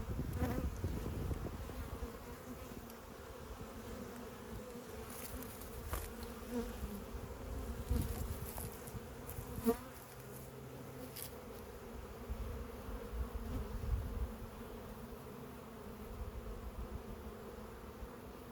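A dense, steady hum of many honeybees buzzing close together, with occasional louder passes of individual bees near the microphone.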